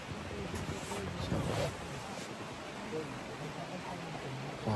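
Heavy rain falls at a campsite in Tanay, Rizal, a constant broad hiss with a brief louder gust of patter early on.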